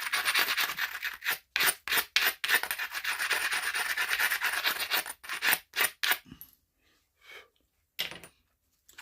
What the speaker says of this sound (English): We're going to try a little bit of modern abrader.